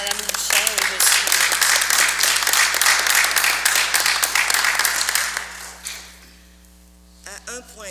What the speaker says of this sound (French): Ça mérite-tu une main d'applaudissement?